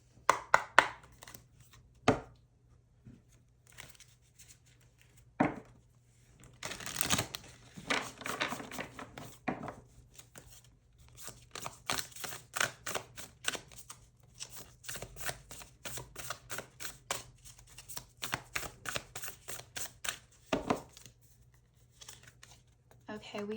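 Tarot cards being shuffled by hand in quick riffles and soft slaps, bursts of crisp flicking that come in clusters, with faint talk between them.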